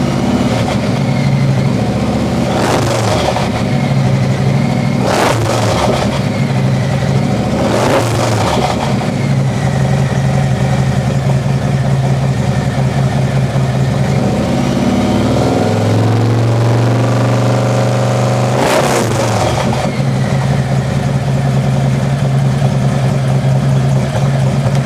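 Car engine fitted with a D&D billet cat exhaust, idling loudly with a steady low rumble and blipped up to around 2,000 RPM several times, each rev rising and falling sharply, with a longer swell near the end.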